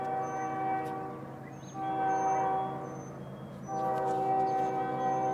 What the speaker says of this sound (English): You hear the choo-choo?